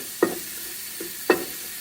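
Onions, garlic and jerk seasoning sizzle softly in a pan as a spoon stirs them, with two distinct scraping strokes and a fainter one in between over a steady frying hiss.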